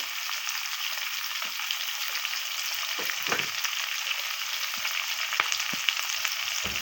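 Bitter gourd fries in a pan with a bright, constant sizzle that fills the whole stretch, and occasional stirring scrapes and taps sound up close, no one speaking.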